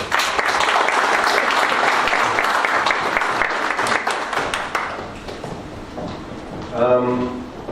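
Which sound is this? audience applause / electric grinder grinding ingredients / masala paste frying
audience applause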